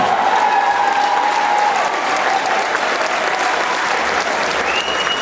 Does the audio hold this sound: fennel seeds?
no